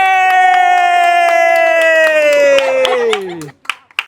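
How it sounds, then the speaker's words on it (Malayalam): Hands clap in a steady rhythm to cheer on children in a lollipop challenge, the claps ringing out under a long, sustained voice-like tone that slides down and then breaks off near the end. "ഇവരെ കൈയടിച്ച് പ്രോത്സാഹിപ്പിക്കാം"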